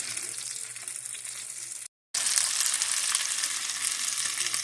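Loud, bright sizzling of pork McRib-style patties frying in a hot pan, a constant crackling hiss that cuts out for a moment and resumes.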